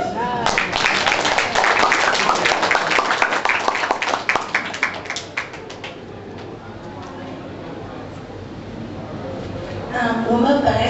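Audience applause for a chamber of commerce president at the founding ceremony and dinner of a Taiwanese business association in the Solomon Islands, with dense clapping filling the opening seconds and then fading under nearby talk.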